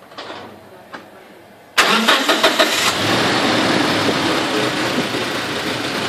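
A car engine cranks with a few rapid bursts, catches and settles into a steady idle, following a couple of faint clicks in a quiet workshop during sensor testing.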